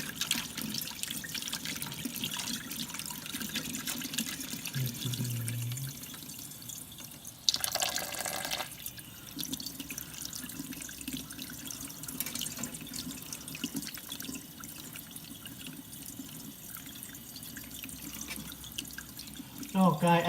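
Warm water runs steadily from a tap while a Dyson V10 vacuum filter is washed in a sink, a continuous splashing flow with a brief louder gush midway, and a person speaks over it at times.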